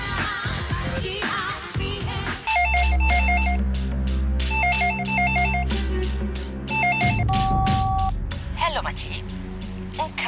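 A telephone rings repeatedly with no one answering, each electronic ring burst loud and close, set over a low hum and some background voices.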